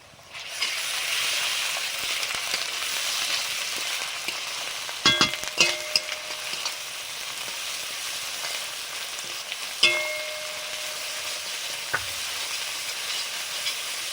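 Garlic, ginger, cumin and dried red chilli paste fry in a new wok in an outdoor kitchen, making a steady close sizzle. A few sharp metallic clinks and scrapes of stirring break through at intervals. No talking.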